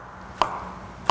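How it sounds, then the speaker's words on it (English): A knife dices mushrooms on a cutting board, two sharp, separate chops close by in a quiet kitchen. "So we're just gonna dice these up."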